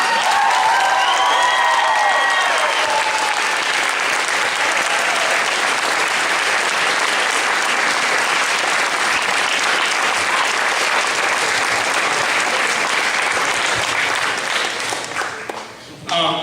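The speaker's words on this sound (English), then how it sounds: "One great big round of applause. Seniors, take your bow." A theater audience gives long, loud applause for seniors taking their bow after a school play, with dense, steady clapping and some cheering and voices, fading slightly at the end.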